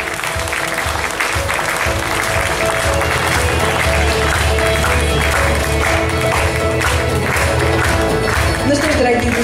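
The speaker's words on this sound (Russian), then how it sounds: "Поддерживаем аплодисментами." Sustained applause from a large crowd in an auditorium at a family holiday celebration, steady and loud throughout, with music or voices mixed faintly underneath.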